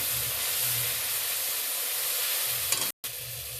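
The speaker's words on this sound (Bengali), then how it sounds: "এবার পোস্ত শস্য বাটাটা দিয়ে দিচ্ছি মশলাকে নেড়ে করে নেব" A poppy and mustard seed paste with cumin, dried chilli and spices is stirred in hot oil in a pan, giving a steady close sizzle and hiss throughout with a brief dropout near the end.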